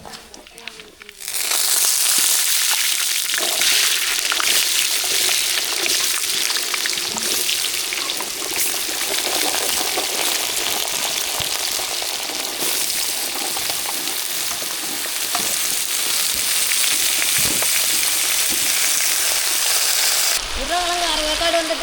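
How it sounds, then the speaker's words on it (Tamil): Potatoes hit hot oil in a tempering of mustard seeds and curry leaves, cooked in a large batch for a temple festival feast, giving a sudden loud, sustained sizzle that crackles and hisses steadily close by, with faint stirring scrapes. "தாளிப்பு ரெடி ஆகிட்டு உருளைக்கிழங்கு சேர்த்துக்கலாம்"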